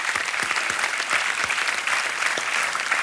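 Studio audience on the KBC quiz show applauding a contestant, dense sustained clapping from many hands at a fairly loud level throughout, with light crowd murmur underneath.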